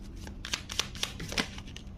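Tarot cards being shuffled by hand make a run of quick, papery riffling bursts, soft and close, repeating in an uneven rhythm for about two seconds without any talk.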